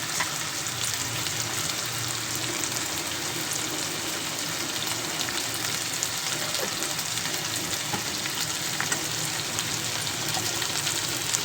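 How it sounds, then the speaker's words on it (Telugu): Potatoes fry in a pan with a steady, dense sizzle that holds at an even level throughout, close and uninterrupted, with no voices. "ఆలుగడ్డలు తొందరగా ఫ్రై కావాలంటే ఫస్టే"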